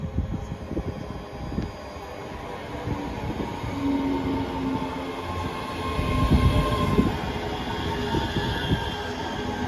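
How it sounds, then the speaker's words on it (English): A ScotRail train from Dunblane to Edinburgh Waverley, units 385004 and 385038, rumbles into Haymarket station, its wheels squealing and clacking over a steady mechanical drone that swells slightly as it draws near. "Arriving in now is the 15:50 ScotRail service from Dunblane to Edinburgh Waverley."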